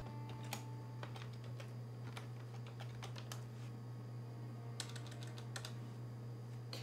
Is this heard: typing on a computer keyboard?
yes